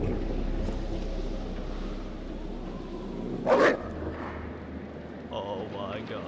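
A wolf in the horror game Until Dawn gives a short, sharp bark partway through, heard over a low ambient game background while someone talks.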